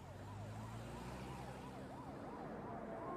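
Emergency rescue vehicle sirens wail in a repeating rise-and-fall pattern, fairly faint and somewhat distant, over a low steady rumble with no talking.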